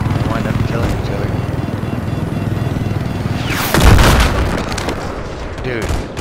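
A noob tube grenade explodes in an Xbox One shooter game, a single loud boom cutting through steady battle noise and gunfire, followed by a decaying rumble.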